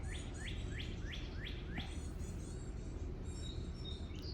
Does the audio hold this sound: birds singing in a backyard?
yes